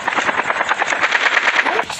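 Rapid automatic gunfire bursts crackle over a steady helicopter rotor drone in Call of Duty Mobile, dense and continuous throughout, with a voice talking underneath.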